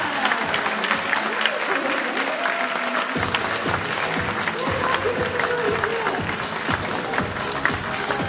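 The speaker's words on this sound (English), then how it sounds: "A big round of applause." Sustained applause from an audience at a children's awards ceremony fills the whole stretch, dense and even, with a thicker, fuller swell of clapping after the first few seconds and faint voices mixed in.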